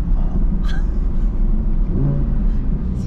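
An Audi R8 V10 engine heard from inside the car, a deep steady rumble rising slightly as the revs climb, close and loud with faint cabin noise.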